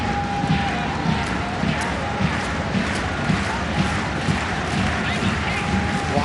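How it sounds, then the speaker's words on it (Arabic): Al Jazira football supporters chant and cheer in a stadium during a UAE President's Cup final, a dense, steady crowd roar with rhythmic claps or drumbeats, while a commentator talks over it. "وهذا صوت رابطة الجزيرة"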